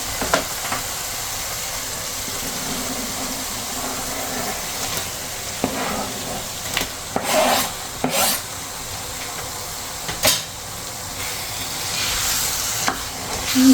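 Eggplant is stirred into a sizzling tempering in a pan for baingan bharta. A soft continuous sizzle runs throughout with scattered scraping stir strokes, close up and without talk.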